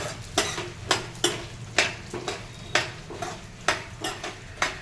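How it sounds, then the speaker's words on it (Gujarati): Almonds fry in hot ghee over a medium flame, with a soft sizzle beneath regular, close scraping strokes of a spoon stirring the pan. "આપણું ઘી ગરમ થઈ ગયું છે. એની અંદર આપણે હવે પહેલાં બદામ નાખશું."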